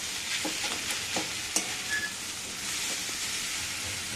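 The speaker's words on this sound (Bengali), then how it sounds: "সবজিগুলো ভাজা হোক দেখো সবজির মধ্যে আমি চাউমিনটা দিয়ে দিলাম" Vegetables and chow mein fry and get stirred in a hot pan, giving a continuous close sizzle with scraping and stirring clatter throughout.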